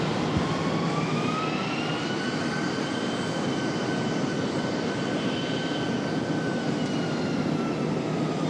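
Jet airliners roll and climb out from the Charlotte airport runway, a steady, loud roar of engines with rising whine tones sustained throughout, no voices.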